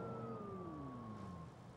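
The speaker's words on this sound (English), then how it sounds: "There's a police car right behind me." A police car siren from the game Watch Dogs 2 wails with a descending pitch sweep, close and moderately loud over low traffic rumble, with no voices.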